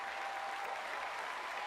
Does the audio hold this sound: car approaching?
no